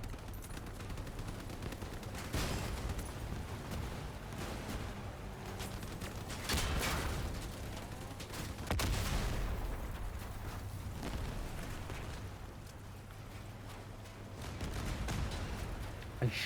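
A high-damage machine gun build firing in the vehicle combat game Crossout, with fairly quiet, continuous rattling bursts and several heavier blasts swelling through the stretch, without talk.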